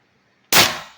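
A single sharp crack from an airsoft M17 pistol running an HPA tank at 1100 psi, sudden and loud after silence, then a short decaying tail.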